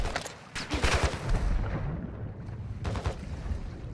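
Gunfire from a sniper shooter video game, a dense burst of shots clustered early, then scattered rumbling reports and a later cluster of cracks under a continuous busy game-battle din.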